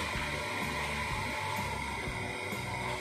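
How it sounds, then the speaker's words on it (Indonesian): A hair dryer runs as an added load on a 6500-watt hybrid off-grid solar power system, giving a loud, continuous whooshing hum with steady tones, with no talking. "Kemudian saya tambahi hair dryer"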